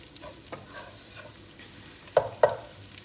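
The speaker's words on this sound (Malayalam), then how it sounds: "ബാക്കിയുള്ള ചിക്കനും കൂടി ഫ്രൈ ചെയ്യാൻ വെച്ചിട്ടുണ്ട്" Chicken for biryani sizzling and frying in a pan with a soft steady crackle, broken by a few sharp scraping stirs, two of them loud and close together.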